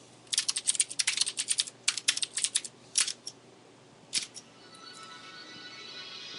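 Rapid bursts of typing on a computer keyboard during web app coding work, clusters of quick clicky keystrokes near the mic for a few seconds, then stopping and leaving a faint steady hum.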